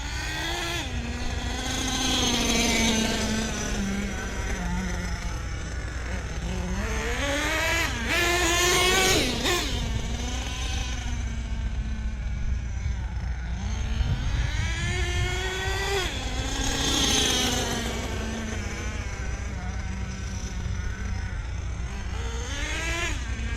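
HPI Savage XL nitro RC truck with a Force .32 engine, loud buzzing two-stroke whine rising and falling in repeated revs and passes, running continuously close by.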